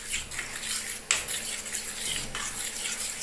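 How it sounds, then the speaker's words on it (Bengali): A spoon scrapes and clinks around a pan while oil is stirred for a homemade Bengali dairy dish, a soft continuous scraping with a couple of sharper metallic knocks, close and without talk. "এবার আমি চামচের সাহায্যে এটাকে ভালো করে মিশিয়ে নিলাম"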